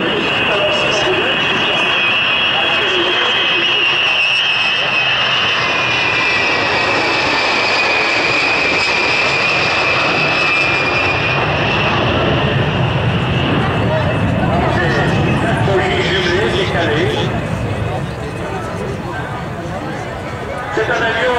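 Steady roar of a B-52 bomber's jet engines overhead at the Luxeuil air show, loud and continuous with a high whine on top, while someone talks over it in French.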